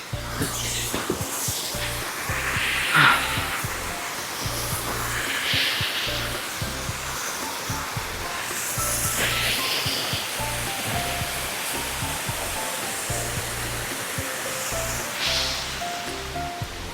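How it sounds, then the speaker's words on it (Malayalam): The continuous rushing roar of a waterfall on the Kanchenjunga north base camp trek fills the air, with faint rustling and a few soft voices in the background. "എവിടെ നോക്കിയാലും വെള്ളച്ചാട്ടം മാത്രമേ ഉള്ളൂ."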